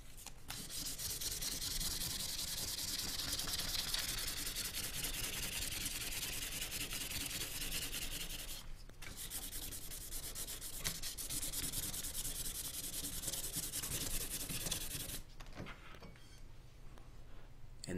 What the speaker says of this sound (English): I'll hit it one more time with a 400 grit emery.